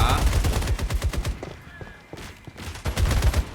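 Turret gunfire in the shooter game Fragpunk: rapid bursts of close, loud shots in quick rhythm, pausing briefly midway before resuming, with a voice speaking over it.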